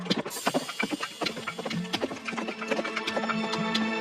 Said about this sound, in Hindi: राजकुमार आदित्य घोड़े पर सवार होकर जंगल में बने उस पुराने किले की ओर बढ़ गया